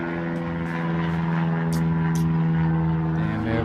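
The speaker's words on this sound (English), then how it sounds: "Damn airplanes." A propeller airplane drones steadily overhead, a loud, even hum with a buzzing tone that holds throughout without fading, and no voices above it.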